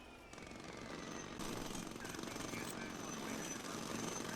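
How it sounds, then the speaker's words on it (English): Jackhammers pounding away in the airport construction game SimAirport, a continuous fast mechanical rattle at low volume that swells slightly midway, with no speech over it. "the jackhammers are banging"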